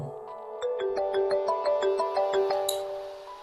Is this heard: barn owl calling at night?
no